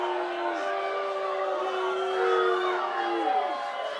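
A stadium crowd boos and jeers at a Windsor City FC versus Master's FA football match. The sound is a steady, sustained wash of voices with wavering tones, at moderate distance, holding evenly for several seconds.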